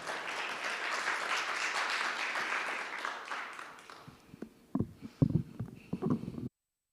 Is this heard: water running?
no